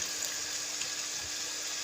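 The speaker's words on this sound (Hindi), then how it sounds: "इसके अंदर अब हम पानी ऐड करेंगे।" Water pours steadily into a pan of pea curry, a continuous close, bright rushing splash with no voices.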